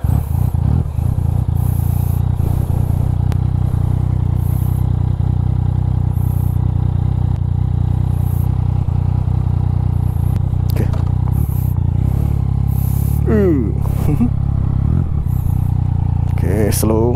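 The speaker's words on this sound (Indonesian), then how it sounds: "Okay, start engine." An engine runs steadily with a strong low rumble throughout, close and loud, while a voice speaks briefly over it and some scraping clatter and revving creep in toward the end.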